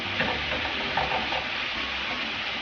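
Carne asada for street tacos sizzles in a hot pan, a steady dense crackle and hiss holding at even loudness throughout, close up with no voices.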